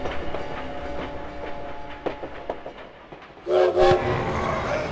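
Train at a Paris depot in the Valiant Hearts video game, a steady rumbling rail ambience with clanks and a louder surge near the end, no talk.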